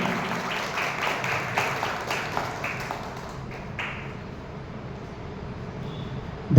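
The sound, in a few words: audience applauding to welcome a guest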